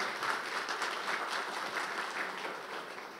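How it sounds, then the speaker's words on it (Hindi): Audience applause at a Thackeray film music launch event, a steady wash of many hands clapping that holds at a moderate level throughout without pause, with no voices over it. "प्लीज इनके लिए जोरदार तालियां हो जाए."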